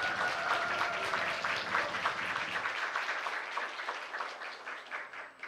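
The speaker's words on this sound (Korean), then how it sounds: "저희 학생들 위해서 박수 한번 부탁드려도 될까요?" Audience at a policy forum on alternative education gives applause for attending students, a dense patter of many clapping hands that thins out and fades toward the end.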